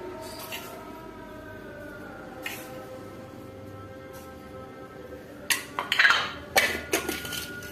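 A spoon scrapes and clinks against a metal pot a few times in quick bursts while mixing turmeric and salt into vegetable samosa filling, with a steady low hum in the background.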